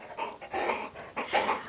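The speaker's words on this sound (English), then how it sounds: "When I watch this back, there's going to be so much dog sound" A dog pants close by in quick, rhythmic bursts of breathy huffs, with brief pauses between the runs of breaths.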